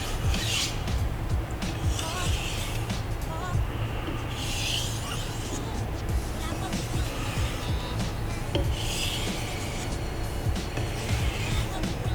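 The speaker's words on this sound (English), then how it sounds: "I'm going to put in my deburring strokes." A santoku knife drawn across a whetstone in light deburring strokes makes a continuous close scraping rasp with faint rhythmic swishes, under a steady low rumble of background noise.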